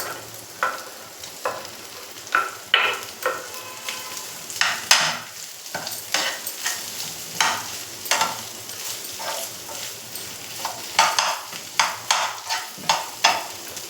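Green chili paste frying in oil in a pan, crackling and sizzling up close with a steady run of rhythmic stirring and scraping strokes throughout.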